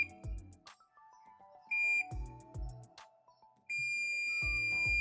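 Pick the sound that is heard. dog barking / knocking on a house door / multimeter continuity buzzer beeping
multimeter continuity buzzer beeping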